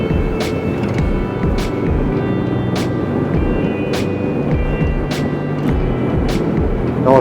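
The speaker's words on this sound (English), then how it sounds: "Sorry about the wind." Steady, loud broadband rush of wind noise inside a moving car with all the vents open, driving a long straight road toward Le Touquet, with low road rumble underneath and no talk.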